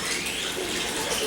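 Water pours steadily into a bucket on a garage floor while mixing an acid etching solution, a brief continuous gushing splash, close and fairly loud.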